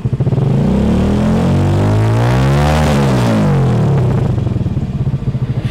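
A homemade race car engine revs loudly and steadily, rising to a peak and easing back down, with a continuous throaty drone and no voices over it.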